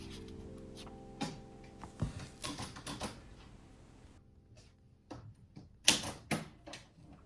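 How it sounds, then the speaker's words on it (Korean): An old typewriter being typed on, with irregular sharp key strikes and clacks in small bursts separated by brief quiet gaps. "직접 오래된 타자기로 그 추천사를 일일이 타이핑하고"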